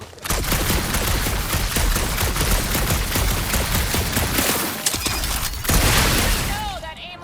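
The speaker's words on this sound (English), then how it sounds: "shooting isn't gonna scare the monsters away, right?" Dense, sustained gunfire from a Guardians of the Galaxy video game firefight, loud and continuous for several seconds with bursts and booms, easing briefly before a final flurry.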